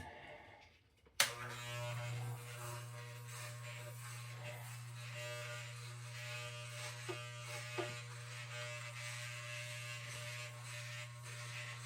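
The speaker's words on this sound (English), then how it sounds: "I get myself my own clippers and do it myself." Electric hair clippers buzzing steadily as they cut hair during home grooming, switching on abruptly after a brief silence and holding a close, constant hum with faint clicks and scrapes from the blades.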